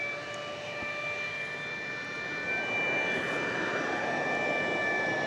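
An MD-11 jet takes off at night from DFW Airport with a steady distant engine roar and a whine. The roar swells slightly louder toward the end.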